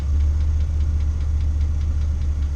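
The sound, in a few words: Chevrolet Astro van engine idling smoothly without misfire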